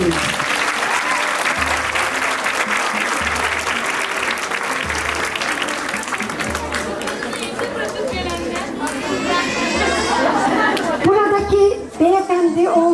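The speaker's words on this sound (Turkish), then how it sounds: "ben bir alkış rica ederim" An audience at a municipal talk in Gaziosmanpaşa claps loudly and continuously alongside crowd chatter and talking. Shouts and voices rise toward the end.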